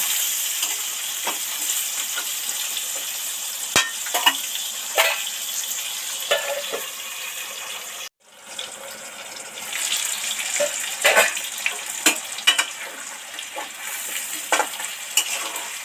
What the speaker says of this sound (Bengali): আলুগুলো তো ডিপ ফ্রাই করে নেড়ে চেড়ে ভালো করে ভেজে নিলাম